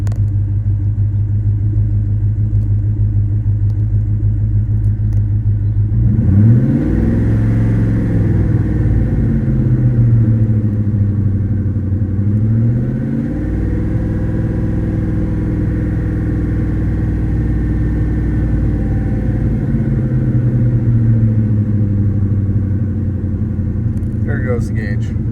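A 2004 Ford Mustang Mach 1 engine idling steadily, then revved in gradual rises and falls several times, loud and close, with a voice talking over it.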